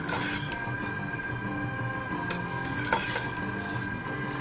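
Instant Tiger Tiger Pad Thai noodles get tossed with barbecue pork in a bowl, producing faint scraping and occasional light clatter over a constant low background hum.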